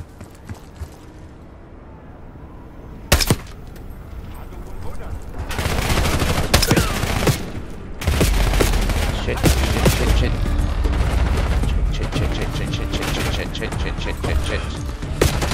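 Call of Duty Black Ops 6 campaign combat on PC: loud close bursts of automatic gunfire and rapid shots crackle almost continuously after a quieter opening, with a voice talking briefly.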